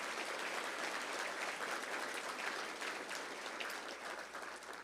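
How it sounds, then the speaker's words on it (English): Steady, dense audience applause at a State of the City address, a large crowd clapping continuously for the police department, fairly distant and uniform throughout. "let's give them a round of applause,"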